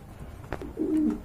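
Long face pigeons coo at close range, a short soft rustle followed by a deep, drawn-out throaty coo that swells toward the end against quiet background noise.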